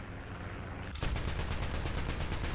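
A War Thunder anti-aircraft gun opens up on biplanes in a sudden, sustained stream of rapid, loud, evenly spaced shots that keeps going after a quieter opening moment.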